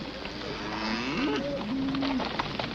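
A herd of cattle being driven across open range, with low drawn-out moos rising and falling over a steady background murmur, the lowing fairly close and continuous.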